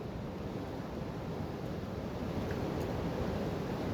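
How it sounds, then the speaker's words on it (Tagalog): A strong river current rushes at a waterfall, producing a steady, dense roar of water that stays even and unbroken throughout, with no voices. "Ang lakas ng agos."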